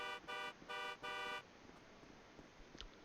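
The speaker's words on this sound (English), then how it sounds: "Honking her horn good." A car horn in a FiveM GTA roleplay game blasts four loud, clipped honks in steady rhythm, then leaves faint background ambience.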